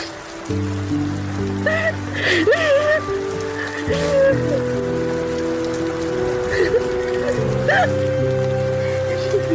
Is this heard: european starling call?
no